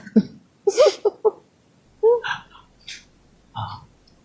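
Several short, abrupt throat bursts, like quick coughs, come in uneven clusters close to the listener, with brief pauses between them.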